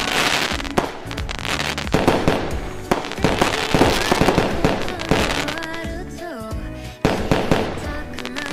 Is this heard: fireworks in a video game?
yes